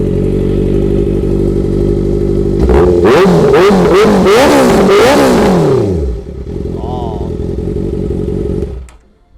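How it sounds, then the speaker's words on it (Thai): A Honda CB650F motorcycle engine idles steadily, then revs hard in several sharp rising and falling bursts before settling back to a loud idle and cutting off near the end. "เดี๋ยวเรามาเบิ้ลเกียร์"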